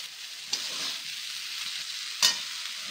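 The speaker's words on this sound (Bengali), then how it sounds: "এইভাবে ভাতটাকে পুরো ভেজে নেব" Rice frying in a pan with sugar, salt, pepper and garam masala, a steady close sizzle with two sharp scrapes of a spoon against the pan.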